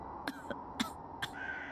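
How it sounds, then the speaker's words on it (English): A woman gives a few faint, weak coughs, three or four short soft bursts spaced closely together over a quiet background hiss. "Those are some pretty weak coughs."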